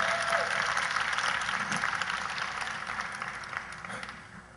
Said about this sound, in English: Give Jamal a great round of applause, will you, everyone?